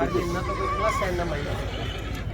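A horse at a horse show competition on the Sadri municipal ground during the 2022 Ranakpur Jawai Bandh festival whinnies loudly near the start, with someone talking over the neigh and the busy crowd.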